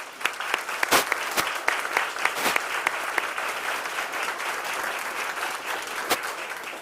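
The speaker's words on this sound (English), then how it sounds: "Dr. Nuss and Linda, let's give them a round of applause" An audience at a hospital announcement for a new cancer institute applauds Dr. Nuss and Linda, a steady wash of many hands clapping with a few sharp nearby claps standing out, continuing throughout.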